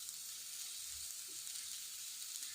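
Ground masala sizzling steadily in a hot pan while beans fry is cooked, a continuous close, fairly soft frying hiss with no talk.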